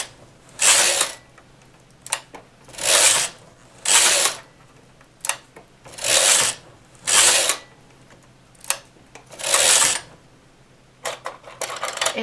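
A knitting machine carriage is swept back and forth across the needle bed knitting rows for short-row shaping, each pass a loud rasping mechanical whir of about a second, repeated roughly seven times with brief clicks between and near silence in the gaps.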